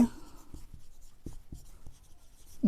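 Pen strokes scratch faintly on paper as a maths question is written out, a series of short soft taps and scrapes with no voices.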